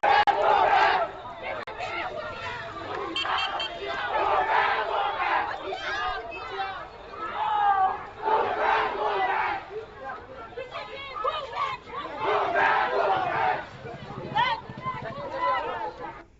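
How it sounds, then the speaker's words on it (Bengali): A protest march crowd chants slogans against the Chief Minister at Bishramganj market in Sepahijala district, loud and sustained for the whole stretch, with surging rhythmic shouts and a dense babble of many voices. "মিছিল থেকে মুখ্যমন্ত্রীর বিরুদ্ধে একাধিক স্লোগান তোলা হয়েছে"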